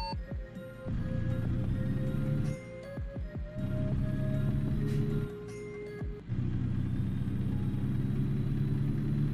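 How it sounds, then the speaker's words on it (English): A truck engine in the driving game American Truck Simulator drones with a steady low rumble that swells in long stretches, alongside repeated sharp clicks and a thin tone. "Do you see, hear that engine roar? I mean, that's the engine of job 3."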